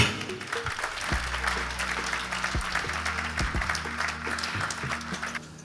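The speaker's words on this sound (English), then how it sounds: "give yourself a round of applause first" A crowd gathered after a 350-mile charity bike ride from Scotland to Birmingham applauds, a dense, sustained burst of many hands clapping with some nearer sharp claps and low background hum, continuing for several seconds.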